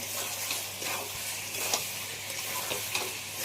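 Potatoes sautéing with tomato sauce and chili sauce in a pan give a steady, close sizzle, broken by soft scraping stirs at an even pace, with no one talking.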